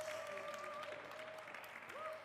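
Applause from a small studio audience during a Spanish talk-show interview with a musician, dense and steady throughout, with a sustained tone and a few voices mixed in underneath.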